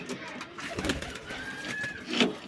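A domestic pigeon kept by a hobby breeder coos softly at close range, a few low murmuring calls rising out of a quiet room with light background noise.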